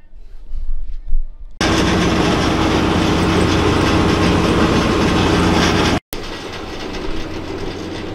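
A 1200kg forestry cutter runs up after balancing, a loud, steady, dense mechanical roar with a slight vibration from an open hood, cutting off abruptly and then continuing at a lower level.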